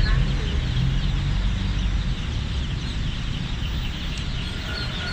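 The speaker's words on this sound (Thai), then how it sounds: "แบบนี้เป็นไก่เพิ่งออกนะครับ" A dense, steady chorus of high peeping from a crowd of newly hatched laying-breed chicks fills the whole stretch, continuous and fairly close.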